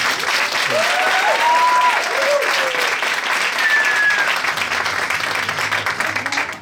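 Audience applause at a children's musical comedy show, a sustained loud crowd of clapping with a few whistles and cheers rising above it, fading slightly toward the end.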